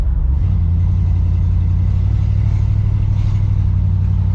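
A Ford Galaxie with a freshly repaired engine and rebuilt steering drives along, its deep engine rumble and road noise holding loud and steady from the inside, with no talking.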